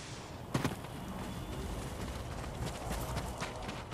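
Horse hooves clip-clopping at a run in the video game Ghost of Tsushima, a steady rhythmic galloping over a constant background, with a sharp thump near the start.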